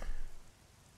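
Rain in the Bee Movie video game: a dense, steady hiss of falling rain, loudest at first and then settling to a softer, even wash, with no one talking.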